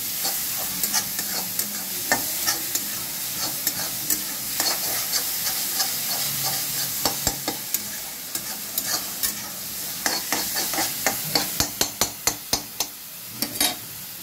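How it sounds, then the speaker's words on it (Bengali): Spices and Kashmiri chili sizzle in a pan for ghugni, a steady frying hiss broken by frequent sharp scrapes and taps of a spoon stirring, which come faster toward the end. "দিয়ে এটাকে ভাজা ভাজা করবো।"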